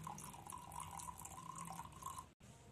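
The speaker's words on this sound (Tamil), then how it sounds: "இந்த மாதிரி கொஞ்சம் தண்ணி ஊத்திக்கோங்க" Water poured from a small vessel into a miniature cooking pot in a toy-sized kitchen, a steady trickling splash lasting almost three seconds, with a brief break near the end before the pouring resumes.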